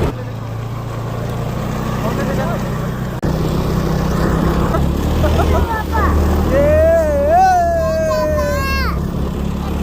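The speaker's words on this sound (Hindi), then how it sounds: "ये है स्नो स्कूटर" A snow scooter engine runs steadily at a snowy mountain valley, a continuous low drone throughout, with a rising whine toward the end and people talking over it.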